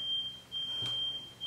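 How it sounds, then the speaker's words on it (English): A household smoke alarm sounds a steady high-pitched electronic beep in a repeating pattern of three tones separated by short gaps, clear and moderately loud in a quiet room. "while he is working on fixing the fire alarm"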